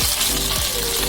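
Ghee heating in a kadai at the start of making carrot halwa gives a steady, close sizzle and faint crackle that holds evenly throughout, with no talking.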